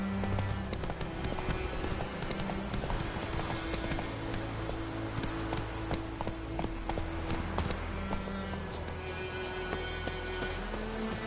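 Roach, a horse in the video game The Witcher 3, gallops with steady, continuous clip-clop hoofbeats close up, over a dense bed of game ambience and music.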